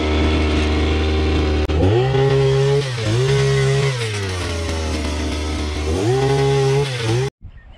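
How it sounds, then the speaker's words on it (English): A petrol post auger drills a planting hole in the ground at a vineyard, its small engine buzzing loudly up close and rising and falling in pitch as it bites into the soil, then cutting off abruptly. "So all we've got to do now with the post auger is to drill a hole where one of those cable ties is"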